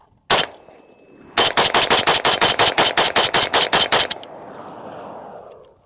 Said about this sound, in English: So we're just gonna fire like a couple rounds so you guys see what it sounds like without the